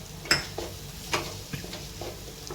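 Turmeric, coriander-cumin powder and Punjabi masala are stirred into cooked spinach in a pan, with a few spaced spoon taps and scrapes against the pan, fairly faint and close, with no talking.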